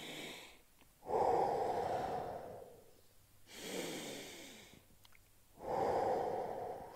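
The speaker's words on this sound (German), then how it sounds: "nach vorne und fünfmal atmen" Slow, deep breaths during a stretching exercise, close and clear: a long airy inhale, a softer exhale, then another strong inhale in an even, unhurried rhythm.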